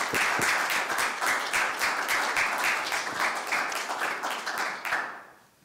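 An audience at a theological talk gives a sustained round of dense applause, with many hands clapping steadily at moderate distance, then tapering off into quiet at the end.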